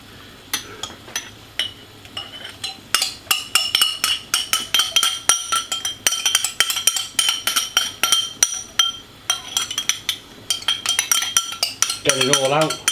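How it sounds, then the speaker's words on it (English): Tomato puree being stirred into a spice mix and oil, a rapid series of close, bright clinks and scrapes of a utensil against the pot, growing busier midway. "Add tomato puree to spice mix and oils and stir."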